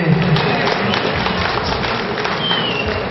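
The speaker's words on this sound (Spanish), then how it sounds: "Fuertes los aplausos para recibir" A crowd applauds an award recipient at a village festival in San Mateo Cajonos. The clapping is dense and continuous, a steady wash at even loudness throughout, with faint voices mixed underneath.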